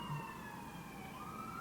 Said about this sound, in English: That could be an ambulance, not necessarily NYPD.